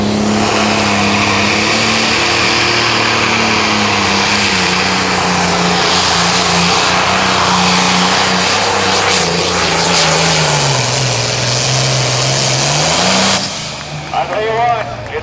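A 9500 limited pro stock pulling tractor roars loudly and continuously down the track at a Mound City, Missouri pull, its engine pitch sagging and rising again before cutting off near the end.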